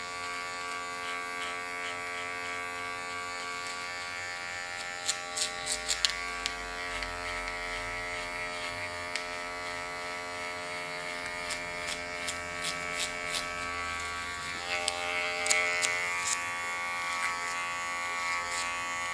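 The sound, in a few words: electric hair clipper cutting hair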